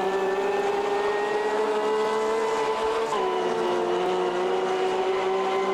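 Race car in AMS2 on the Nordschleife, a steady loud engine drone holding pitch, dipping briefly midway as the car eases toward the straight, with no voices.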